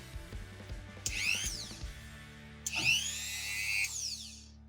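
An RZTK RMT 3211 electric engraver runs in two short bursts, each a high, whining motor tone that rises and falls, with a steady low hum and faint clicking continuing between and after the bursts.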